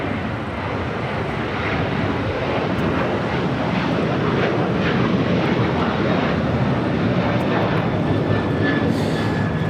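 An American Airlines Boeing 737-800 departs LAX for Nashville, its jet engines giving a steady, loud broadband roar that holds through the whole stretch with no talk.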